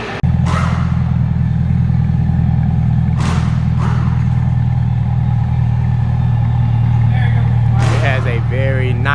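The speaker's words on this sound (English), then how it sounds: "A very nice natural rumble to it. Now it sounds like a Corvette" A C8 Corvette with a Corsa Extreme exhaust idles with a loud, steady, deep rumble, broken by a few short revs and clatters, with the car up close throughout.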